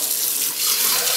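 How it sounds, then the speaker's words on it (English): Hot water runs steadily from a tap while peacock quills are being prepared for stripping, a close, continuous hiss and splash with no talking. "And then we need hot water. So let that run a while."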